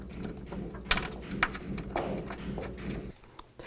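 A ratchet tightens bracket bolts on a 2005-10 Volkswagen Jetta engine during a water pump replacement, giving close, quick bursts of clicking pawl turns with short pauses between them.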